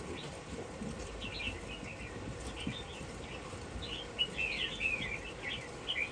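A Chinese hwamei songbird chirps in a bird shop, repeated clear bright trills and short phrases over a constant steady background hum, moderately near.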